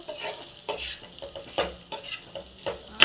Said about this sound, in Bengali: ফুলকপিগুলো দিয়ে ভালো করে কষাবো